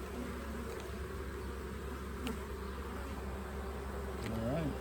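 Honey bees buzz steadily around an open hive during an inspection, a dense close drone with individual bees whining past near the end.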